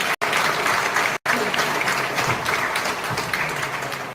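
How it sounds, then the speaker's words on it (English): A board meeting audience applauds steadily and fairly loudly, with two brief cuts near the start, then continuous clapping to the end. "I'll ask for a round of applause for the work that's been done"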